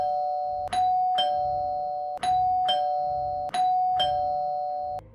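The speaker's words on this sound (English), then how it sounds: "Ringing my doorbell over and over." A doorbell chimes ding-dong three times in quick succession, each two-tone ring clear and close, with short pauses between presses in a quiet room.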